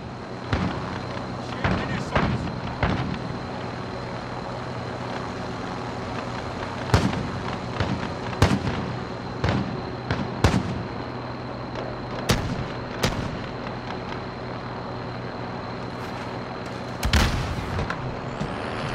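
Gunfire and explosions in Call of Duty Modern Warfare, sharp shots and booming blasts at irregular intervals over a constant battle rumble, with a voice speaking at times.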